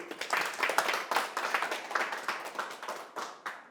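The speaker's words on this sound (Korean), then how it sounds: "자, 박수 한번 쳐보실까요? 박수." A small group claps hands in an uneven, rapid patter for a few seconds, nearby and moderately loud.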